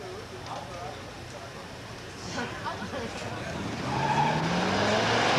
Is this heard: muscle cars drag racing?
yes